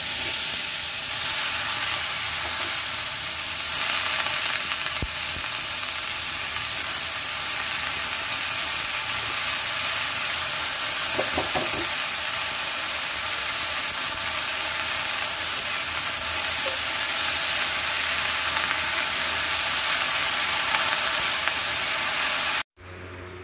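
Chopped pumpkin greens and stalks sizzle loudly in a pan, a dense unbroken hiss with occasional stirring scrapes, up close and alone, cutting off abruptly at the end.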